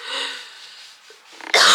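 A child with an infection coughs once, a single sharp harsh burst near the end after a quieter breathy stretch.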